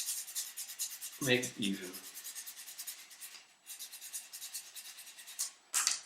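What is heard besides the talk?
sanding baroque bassoon reed with rough sandpaper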